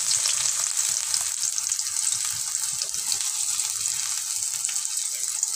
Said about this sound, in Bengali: পেঁয়াজগুলো আমি হালকা একটু ভেজে নেব